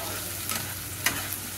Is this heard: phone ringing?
no